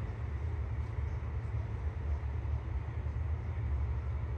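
Interior of an LVS-86K-M tram riding through Saint Petersburg: a steady, loud low rumble of wheels and motor with constant rolling noise and no talk.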